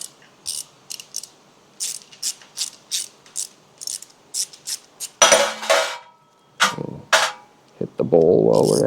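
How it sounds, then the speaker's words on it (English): A 3/8 inch socket on a ratchet backs the needle seat out of the carburetor of a 1975 John Deere 300 garden tractor, giving a steady series of close, sharp ratchet clicks, then metallic clinks and scraping of small parts. "we'll take a 3/8 inch socket and get the seat for the needle out"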